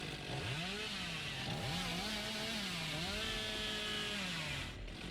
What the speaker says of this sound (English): It's funny to hear the sound of the chainsaw.